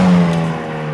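Hyundai i30 Sedan N turbocharged four-cylinder engine revving loudly up close, a steady droning exhaust note that eases slightly as it holds, with no distinct pops standing out.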